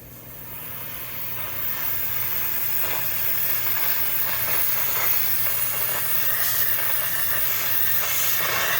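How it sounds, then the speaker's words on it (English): A handheld steam cleaner fitted with its regular nozzle sends out a continuous hiss of steam that builds during the first couple of seconds and then holds loud and steady over a low mechanical hum, with no one speaking. "So that is a quick demonstration of how the steamer works."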